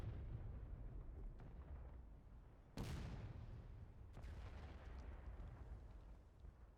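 Cannon fire in a Civil War video game, a couple of heavy booms, one sharp and prominent, over a constant low rumble of distant battle, fairly faint overall.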